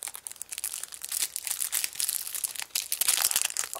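Match Attax Premier League trading card packs are torn open, with close, busy foil crinkling and crumpling that runs without a break.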